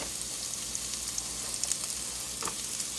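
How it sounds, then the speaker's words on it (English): Cabbage frying in a pot gives off a continuous, fairly soft sizzle and hiss, with a few faint clicks and light stirring touches near the end. "So I'll just fry some cabbage"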